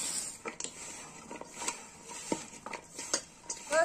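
Okra is mixed with spices and chopped coriander in a bowl, and a spoon knocks and clinks against the bowl in an irregular run of light taps and scrapes.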